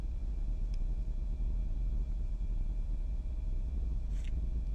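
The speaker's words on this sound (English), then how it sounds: "Try to give you some aircraft sounds here." Steady low jet-engine rumble of an MD-82 airliner in a flight simulator, a continuous broadband roar with a faint whine, loud and unbroken throughout.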